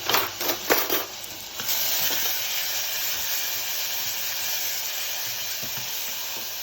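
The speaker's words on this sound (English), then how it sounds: "I'm just going to sweat these down until they're soft." Chopped onions sizzle and hiss steadily in a hot pan, sweating down while being cooked for a chicken katsu curry, with a few brief stirring clicks at the start followed by a constant, fairly loud frying hiss.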